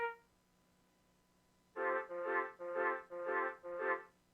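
A mellotron plays sampled flute and violin tones. One short tone sounds first, and after a pause come five evenly spaced, sustained chords with soft attacks, heard clearly and alone.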